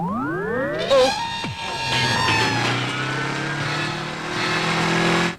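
A motorbike engine in a film scene rises in pitch as it revs, then settles into a steady, loud idle that holds for several seconds before cutting off abruptly.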